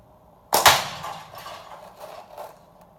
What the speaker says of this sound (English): You can hear it's giving the can a pretty good thud when it hits.